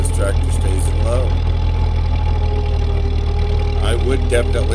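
A Ford 8N tractor clearing snow keeps running in low gear, a steady close engine drone with a low rumbling hum, continuous under a man's speech.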